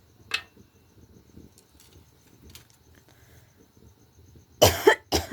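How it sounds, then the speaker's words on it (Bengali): A woman coughs outdoors on a winter night beside a smoky wood-fired clay stove, one cough at the start and a harsh fit of coughing near the end, with crickets chirping faintly throughout. "কাশি হচ্ছে, বাইরে আছি আর এই ধুমার কাছে।"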